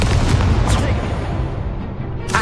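The Incendio fire spell is cast in Hogwarts Legacy, giving a booming, crackling burst of flame that swells loud at first, then tails off with a short pop at the end.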